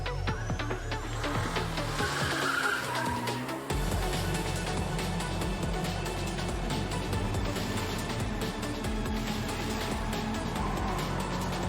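Racing cars from a motorsport video game spanning many styles and eras, engines roaring and tyres skidding in a loud, dense mix with a brief drop-out around two seconds.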